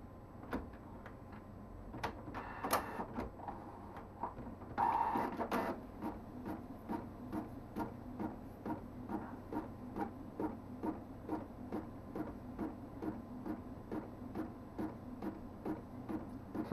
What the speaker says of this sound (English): it's going to start printing them here for us